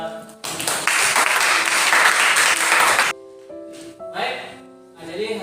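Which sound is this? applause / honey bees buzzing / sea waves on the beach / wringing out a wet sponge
applause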